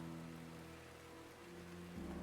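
Rain falls on a courtyard in the game Shadow of the Road as a soft, steady hiss, faint and continuous with a low ambient hum underneath.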